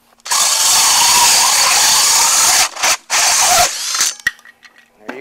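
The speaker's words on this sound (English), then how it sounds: "This is a pretty big hole saw to be using with this little drill" A small power drill spins a large hole saw through material, a loud steady grinding whine for over two seconds, then a few short bursts and stops as the bit stalls and restarts.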